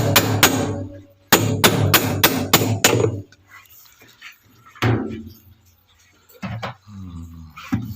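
Hammer blows knocking loose the drum of a 16 kg LG washing machine with a block tool: two sharp strikes, then a fast run of about six loud metallic bangs, followed by a few scattered knocks and handling clatter.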